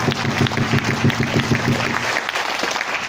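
An audience applauds, a dense, steady clapping from many hands that gradually thins out and fades toward the end.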